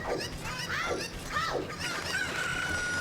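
Several cuckoos in Legend of Zelda: Ocarina of Time cluck and squawk like chickens in quick, repeated calls, fairly close and steady over a constant background hum.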